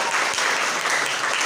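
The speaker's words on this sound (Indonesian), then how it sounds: "Kasih tepuk tangan." A lecture audience claps in a dense, even burst of applause, close and loud, with no voices over it.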